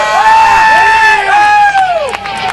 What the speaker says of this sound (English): it's exciting to hear this hometown crowd.